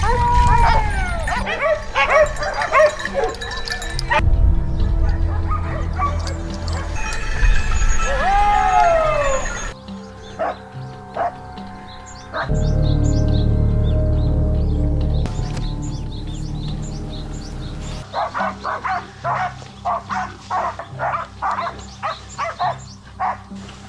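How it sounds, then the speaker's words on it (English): Hunting hounds on a wild hog hunt along a ridge trail growl and bark in repeated loud bursts, some yips and whimpers mixed in, with near calls interrupted by brief quieter stretches of rustling movement. "the hounds suddenly growled and charged toward a thick patch of brush"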